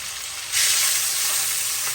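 Fish frying in a pan gives a bright, steady sizzle. The sizzle jumps louder partway through and then holds as a dense crackling hiss.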